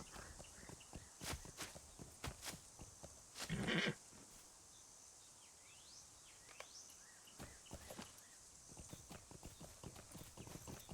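Steady horse hooves clip-clopping at a walking pace in the video game Lord of the Rings Online, with a brief louder scuffle midway and no talking.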